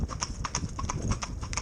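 Horses driven in tandem trot steadily, their hoofbeats a fast, regular clip-clop close by with faint harness noise and a brief background voice.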